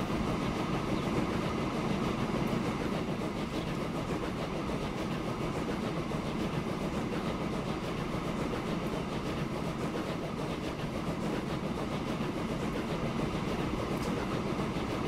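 A train rolls along rails in the video game Transport Fever, with steady, continuous rumbling and rhythmic clatter over the track, close and constant throughout with no talk.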